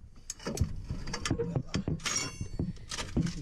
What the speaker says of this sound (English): loosen the nuts there